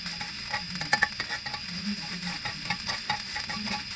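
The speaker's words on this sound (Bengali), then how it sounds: "ভালো করে নেড়েচেড়ে ভেজে নিচ্ছি।" Chopped ginger and garlic are stir-fried in a pan for Bangladeshi-style Chinese beef sizzling, with a soft, steady sizzle broken by irregular scraping and clicking strokes of the spatula up close.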